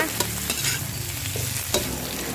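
Kale and shiitake mushrooms stir-fried in a pan over medium heat, a steady close sizzle broken by sharp scraping strokes of a spatula at a brisk, uneven pace, with no voices.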